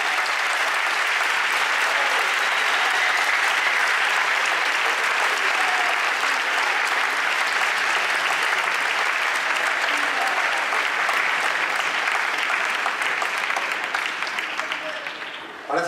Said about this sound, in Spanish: un último aplauso por lo menos para despedirles